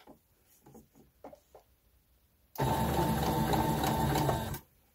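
A home sewing machine runs in one steady, loud burst of rapid stitching through quilting fabric, making a line of small dots after a stretch of quiet handling sounds.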